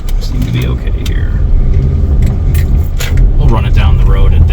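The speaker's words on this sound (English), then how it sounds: "We'll run it down the road and get up to speed a little bit." A 2017 Kia Sportage driving on the road, its engine and road noise a steady low rumble inside the cabin while someone talks over it.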